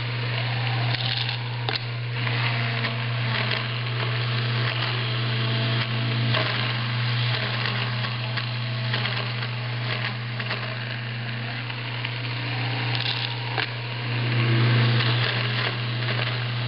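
A grinder works through raw almonds to make almond butter, giving a steady motor hum under a rough, irregular grinding and crunching texture that continues throughout at moderate volume.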